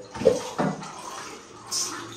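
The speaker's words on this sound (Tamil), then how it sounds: "தண்ணி ஊத்துறா." Water poured into a pan while a crunchy Kurkure-style chicken dish cooks in a home kitchen, a soft splashing pour with a brief hiss near the end.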